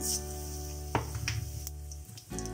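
Cumin seeds and asafoetida sizzling in about two spoonfuls of hot oil for Punjabi chole, a steady close frying hiss with a few light stirring taps.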